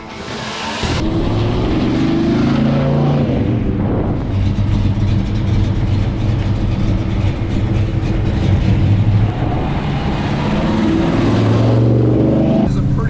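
A 1970 Plymouth Superbird clone with a 528 HEMI V8 roars loud and close, its engine droning steadily under hard throttle while the tires spin, with a brief lull midway and voices talking over it.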